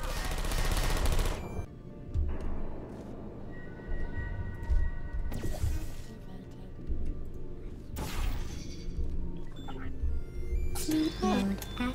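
Turrets in the video game Portal 2 firing bullets in loud, sustained automatic bursts broken by short pauses, mixed with mechanical clatter and a voice talking over parts of it.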